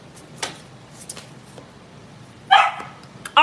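A dog barks in a room: faint scattered yips and noises give way to two loud, sharp barks near the end, with a quieter stretch in between.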